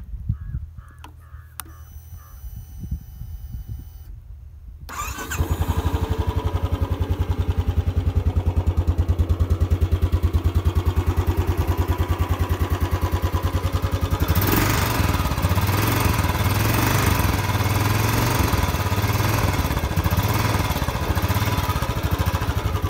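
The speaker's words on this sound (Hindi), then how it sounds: "ये हम बाइक स्टार्ट करके दिखाते हैं आवाज़।" A Royal Enfield motorcycle engine starts at about five seconds and then idles steadily and loudly up close, with a low, even thumping rumble that continues to the end.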